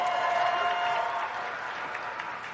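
A crowd at a BlizzCon 2018 World of Warcraft Q&A panel applauds steadily, with dense clapping and a few cheers that ease off slightly after the first second.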